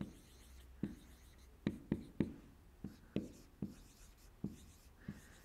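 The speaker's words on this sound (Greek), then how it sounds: "Θα γράψω εγώ κάποιες λεξούλες στον πίνακα" Chalk or marker writing words on a classroom board, a quiet series of about a dozen sharp taps and short scratchy strokes in an uneven rhythm, close by with no talking.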